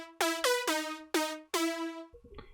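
Bright Serum synth lead in a future bounce style plays five punchy, plucky notes with quick decays, loud and alone, ending in a short glitchy tail.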